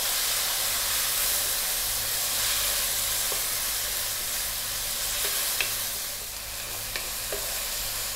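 Tomatoes and onions sauté in a pan, giving a steady, close sizzle and hiss with a few faint scrapes of stirring, and no voices.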